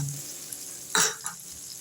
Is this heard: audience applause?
no